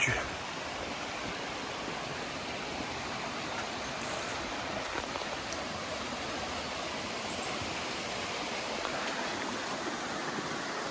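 Steady rushing water of a waterfall at Bolton Abbey in the Yorkshire Dales fills the scene, a constant broadband roar at moderate level throughout.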